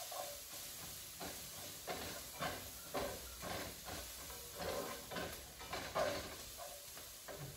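Siopao asado filling sautés in a little oil, a faint, continuous sizzling hiss that swells in soft, uneven pulses as the pan is stirred.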